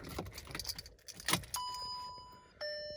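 Car keys jangle and clink up close at a Volkswagen Beetle, followed by steady electronic open-door warning chimes that change pitch partway through.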